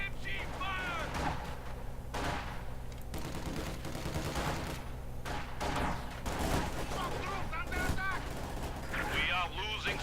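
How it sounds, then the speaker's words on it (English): A machine gun rattles in a Company of Heroes 2 battle: rapid bursts of gunfire at mid-distance, broken by brief pauses, over busy combat noise and occasional unit voice chatter. "MG fire!"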